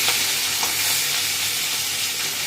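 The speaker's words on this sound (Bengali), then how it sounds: "দেখো মাছটা ভাজা হয়ে এসছে আর একটু হবে বেশি কড়া কড়া করবে না" Fish frying in a pan for a cucumber and fish shukto dish, giving a steady, close, continuous sizzle with faint crackles throughout, no voices.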